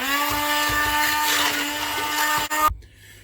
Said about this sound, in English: I'm going to use this blender and make it into a thick sauce.